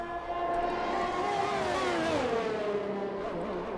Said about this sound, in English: The engines all sound a little bit weird this evening, don't they?